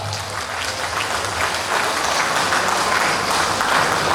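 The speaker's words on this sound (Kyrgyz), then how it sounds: "кол чаап саламдашпайлы" Steady crowd applause at a Kara-Suu district 90th anniversary gathering in Moscow, an audience clapping together to welcome guests and an elder on stage, dense and sustained throughout.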